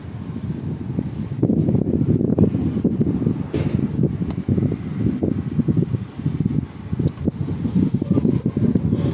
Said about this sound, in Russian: Сейчас ветер поднялся.